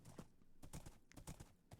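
Horse hooves clip-clopping at a walk in a vanilla survival Minecraft game, a soft, steady series of light hoof taps repeating roughly every half second, fairly faint and alone without talk.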